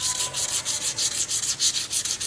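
Hand sanding of an aluminum surface with 400 grit abrasive, a close, rhythmic back-and-forth scratching of about a dozen quick even strokes.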